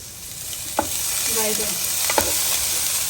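Shallow frying in a kadai with only a little oil gives a steady, close hiss and sizzle, broken by a couple of sharp taps of a spoon stirring against the pan.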